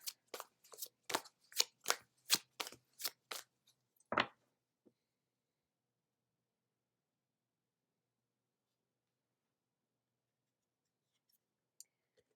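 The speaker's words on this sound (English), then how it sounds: "we'll pull a card from the Divine Feminine Oracle" An oracle card deck is shuffled in about eight quick, crisp riffling bursts, followed by a single snap as a card is drawn, then near silence.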